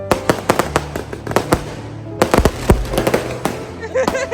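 Firecrackers bursting on a road during New Year celebrations, a rapid irregular string of sharp loud pops and cracks close by, some overlapping in dense clusters with brief gaps between bursts.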